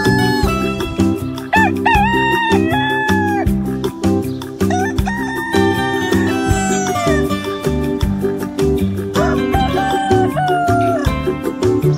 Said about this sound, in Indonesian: ayam jantan, rooster